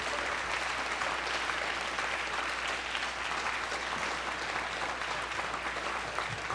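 Audience clapping at the close of a lecture on education, a steady dense patter of many hands filling the room from start to finish, fairly soft and distant with no voices over it.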